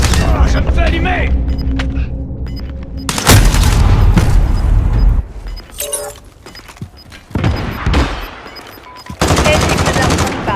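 Call of Duty Modern Warfare gunfire in a slum area during an online match, loud bursts of automatic fire and booming shots in several bursts separated by quieter gaps, with game voice callouts mixed in.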